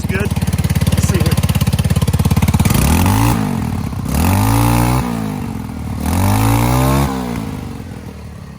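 A 2019 XRX Trailmaster 300 go-kart engine idles with a steady clatter, then gets revved in neutral three times, each rise and fall loud and close.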